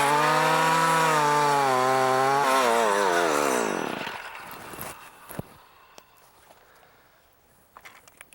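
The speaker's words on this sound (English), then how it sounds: "Using this lawn edger is going to make this job easy." A gas-powered lawn edger cuts a trench for buried pet containment fence wire, its small engine roaring loud and steady with a falling pitch as it winds down, followed by scattered clunks and light footsteps.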